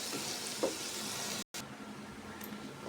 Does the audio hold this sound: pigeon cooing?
no